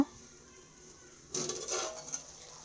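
A lid clatters onto a pot of carrot halwa with a brief metallic clink, followed by a faint rattle as it settles in a quiet kitchen.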